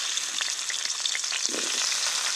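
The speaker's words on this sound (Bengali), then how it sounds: "এবার ওই মাছ ভাজার তেলে আমি আলুটা ভেজে নেব।" Potatoes frying in oil left over from frying fish, a steady close sizzle and crackle with no talk over it.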